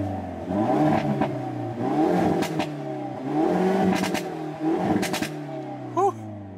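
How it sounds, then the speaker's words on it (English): A 2019 Hyundai Veloster N hot hatch engine revs up repeatedly in several strong surges, loud and close, with brief dips between each climb. "let's go ahead and give it some revs"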